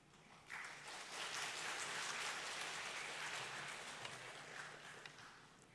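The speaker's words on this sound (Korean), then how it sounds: "박수로 한번 인사하겠습니다" A church congregation at a Wednesday service claps to welcome a pastor, a steady wash of applause that swells quickly, holds for several seconds and slowly thins, heard from a middle distance.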